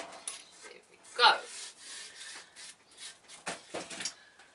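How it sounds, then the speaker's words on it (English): Dry rasping scrapes of sandpaper rubbed over hard concrete, in short irregular strokes, with one louder gritty stroke early on; fairly close and moderate. "I'm just taking a piece of sanding paper and just smoothing it a bit."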